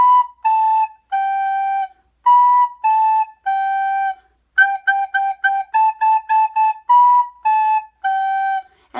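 A single recorder plays the simple three-note nursery tune Hot Cross Buns, clear and close, in short detached notes with brief pauses between phrases, unaccompanied and without talk.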